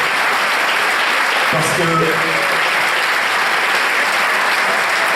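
Crowd in a volleyball hall applauding the club's coaching team at a French championship celebration, steady dense clapping throughout with cheering and a voice speaking briefly over it.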